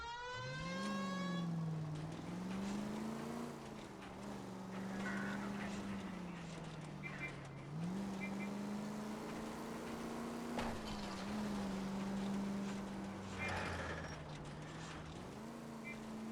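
Period car driven in the video game L.A. Noire, its engine droning steadily and shifting pitch as it accelerates and changes gear, close and continuous with occasional background game noises.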